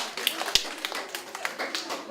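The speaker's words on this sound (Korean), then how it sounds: "박수 한번 부탁드립니다." Scattered clapping from an audience at a university admissions information session, light and uneven with a few sharper claps, fairly quiet and brief.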